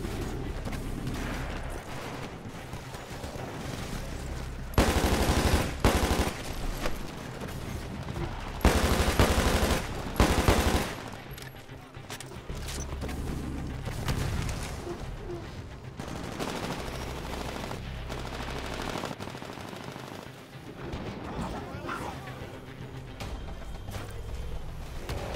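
Gunfire in the Titanfall video game: bursts of automatic weapon fire and sharp shots in bursts, with loud clusters between quieter stretches of game noise and a constant background din.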